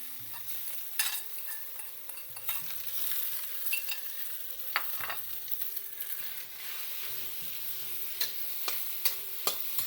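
Mashed potatoes frying in a heavy based pan, with steady sizzling and a stirring utensil scraping and knocking against the pan in repeated strokes, close and fairly loud, with no talking.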